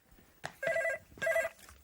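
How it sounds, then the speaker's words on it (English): A telephone bell rings in two short bursts with a brief gap between them, clear and fairly close, in a comedy sketch set in a home. "Oh, there's the phone. Go and answer it."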